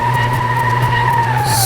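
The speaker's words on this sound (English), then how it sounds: "Spin those tires" A car in Car Mechanic Simulator 2026 spins and skids its tires, a loud sustained squeal over a steady engine drone that wavers slightly near the end, with no talking.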